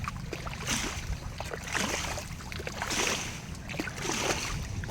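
A solar water pump hose pushes a strong stream of water onto trees, giving a steady hissing rush with repeated splashing surges, moderately loud and close, with no speech.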